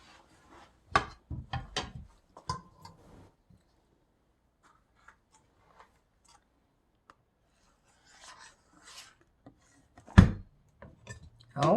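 A knife slicing a firm block of vegan almond cheese on a board: a few quiet, scattered scraping cuts and taps, clustered early and again near the end, with long near-silent gaps between them.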